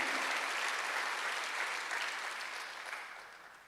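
A church congregation at a Sunday worship service claps together in a brief burst that gradually fades. No one speaks over it.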